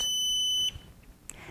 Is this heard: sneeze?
no